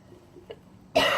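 A single harsh cough from a person with a stuffed-up cold bursts out loud and close after a moment of near silence.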